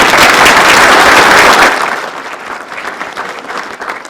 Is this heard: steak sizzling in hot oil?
no